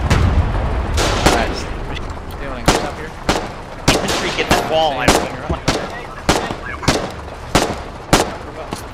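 Tank cannon shots and gunfire ring out in a Foxhole armored battle, with a dozen or more sharp, loud blasts at irregular intervals amid other battle noise and voices.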